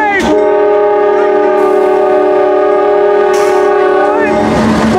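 A CSX freight train's horn blares one long, loud, sustained chord for several seconds, very close, over the rumble of rail traffic.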